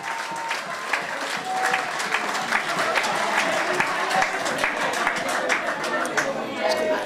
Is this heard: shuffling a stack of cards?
no